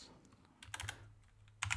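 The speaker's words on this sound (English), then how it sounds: "So this is me typing away" Keys on a mechanical keyboard are pressed in two short bursts of clicky typing with a pause between, close and fairly quiet, heard through a FIFINE K678 microphone.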